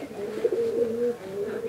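Giribaj pigeons in a loft give a close, steady, low cooing that rises and falls in soft warbling pulses for a brief moment, with no talk.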